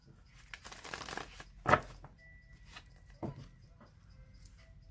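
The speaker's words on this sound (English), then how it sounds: "I'm going to shuffle it 3 more times" A deck of tarot cards being shuffled, with soft papery riffling and crinkling through the first two seconds, one sharper snap near the middle, then a few quieter shuffles and slides close to the mic.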